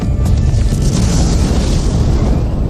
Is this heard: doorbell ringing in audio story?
no